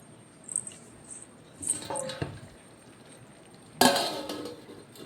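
A metal lid is lifted off a pot of cooking vegetables for semiya upma, followed by a few soft scrapes of stirring and a sharp clatter as the lid comes back down, fairly faint in a quiet kitchen.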